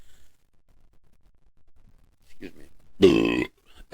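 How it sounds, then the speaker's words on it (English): A single short, voiced belch close to the microphone after a quiet stretch, followed by a faint breath or vocal noise. "It doesn't matter to me if I belch into the microphone."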